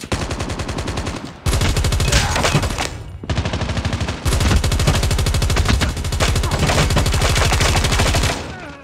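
Rapid automatic gunfire from a Call of Duty shooter match, loud sustained bursts of rattling shots with two brief pauses between volleys, heard up close and dense.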